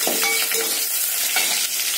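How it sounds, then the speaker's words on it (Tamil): Curry leaves dropped into a pan of softened frying onions sizzle and crackle steadily, with a few stirring scrapes, close and fairly loud. "இதில் ஒரு கொத்து கருவேப்பிலை போட்டுருங்க."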